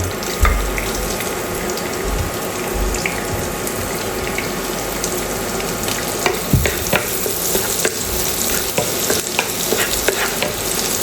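Garlic fries in a pan with a continuous, fairly loud crackling sizzle, close up, broken by occasional utensil clicks and scrapes, with no voices.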